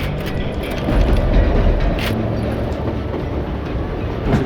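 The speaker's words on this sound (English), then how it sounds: "that train was flying down those tracks like a bat out of hell" A train rushes along the tracks in the video game Call of Juarez: Gunslinger, giving a loud, continuous rumbling roar with rattling clatter throughout and nobody speaking.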